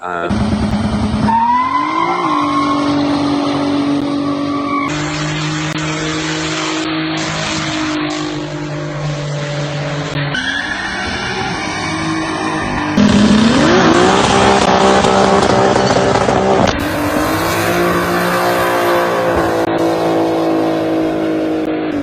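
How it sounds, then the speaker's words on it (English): A family sedan with a tuned BMW N54 engine does trans brake launches, its engine roaring and revving hard while the tires squeal in long, loud skids across a series of repeated runs. "Some good skids, which I've heard this car does some good trans brake skids."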